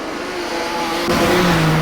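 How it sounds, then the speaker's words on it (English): Modified production race cars battle on the Carina Speedway oval in a Queensland title A-Main, engines roaring loud and close with a sharp surge in revs midway as a car passes. "Now, the car of Adrian Stott comes to this battle as well."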